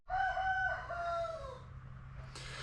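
A rooster crows once, close and loud, a long drawn-out call with a clear rising and falling pitch, followed by quieter background noise and no talk.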